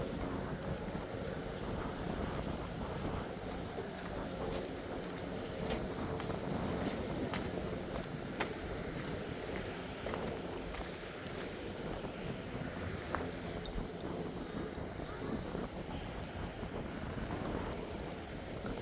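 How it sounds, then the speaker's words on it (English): A light breeze at Rona Bay by the shore, a soft, steady low rustle of wind over the microphone with faint lapping water, quiet and continuous with no voices. "Breezy out here, nice."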